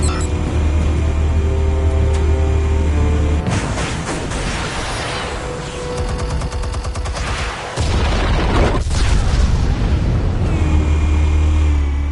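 Explosives detonate in Batman: The Telltale Series, a dense barrage of loud booms and crackling blasts over a low rumbling game score, with a sharp break near the middle before the roar resumes.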